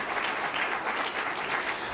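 Steady, moderately loud applause fills a room in Philadelphia at a press event announcing a week-long Welcome America festival, an even wash of many hands clapping with no voices over it.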